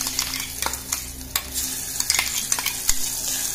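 Ground spice paste hits hot ghee and sizzles steadily while a spoon stirs with irregular scraping clicks, close and fairly loud, with no talking.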